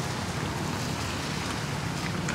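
Rain falls and eases outside Santa Cruz church in Quiapo, a dense, steady hiss of drops that holds fairly loud and even throughout, with no voices.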